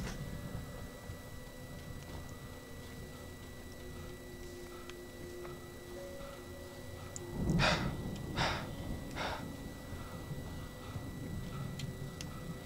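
A player's voice imitating the panting of the video game character Alan Wake: a short burst of three or four sharp, breathy gasps near the middle, set against quiet game ambience and a faint ticking.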